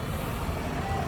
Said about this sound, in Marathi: मित्रांनो, गाडी चालली आहे आता डायरेक्ट त्या ठिकाणी.